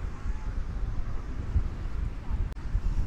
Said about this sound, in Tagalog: Malalaman yung malakas ang hangin sa isang lugar eh